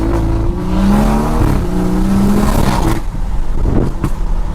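A BMW F30 340i revs loudly up close, its throaty exhaust roaring and rising in pitch, then settling into a rough, rumbling idle.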